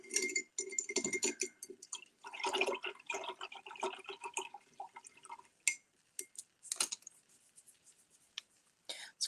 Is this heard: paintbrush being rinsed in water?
yes